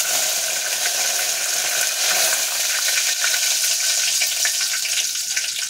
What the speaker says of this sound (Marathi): इथं मी कढीपत्ते टाकून घेते.